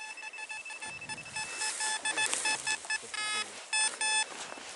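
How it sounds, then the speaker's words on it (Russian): Fisher and Minelab metal detectors sound off outdoors with repeated electronic beeps and warbling tones, overlapping irregular bursts at moderate volume with no talk. "что-то пикает у Фишера, что-то пикает у Минилаба"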